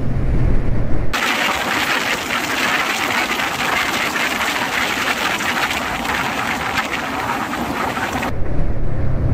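Two TVS Apache 160 motorcycles, a 2V and a 4V, drag race, heard as a loud, steady engine roar heavily buffeted by wind noise for about seven seconds, with no speech.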